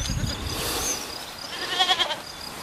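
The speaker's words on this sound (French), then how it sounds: "Voilà, vous voyez, c'est une grande chèvre." Large three-year-old goat on an educational farm gives a couple of short, quavering bleats near the end, preceded by low rustling and background noise.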